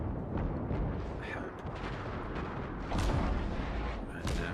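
Naval gunfire from battleships during a World of Warships match, heard as dense rumbling booms and distant salvos that run continuously, with someone talking briefly over them.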